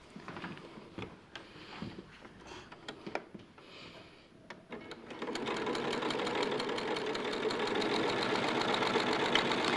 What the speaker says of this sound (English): So you want to sew those two pieces together along that edge.